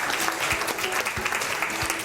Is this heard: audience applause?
yes